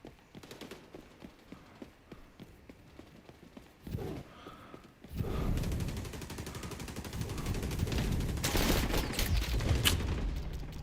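Gunfire from SMGs and assault rifles in the video game XDefiant: rapid clipped shots rattle at first, then heavier, denser bursts of fire and action noise build into a loud, continuous barrage.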